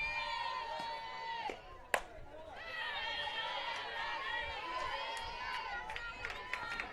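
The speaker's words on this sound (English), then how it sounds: "It's a great crowd here right now and all for senior day in Frankie" A crowd murmurs and chatters at a college softball senior day game between Salve Regina and Nichols, a steady low hubbub beneath a commentator's clear voice, with a sharp crack near the two-second mark.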